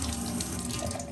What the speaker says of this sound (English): I'm just going to use some cold water,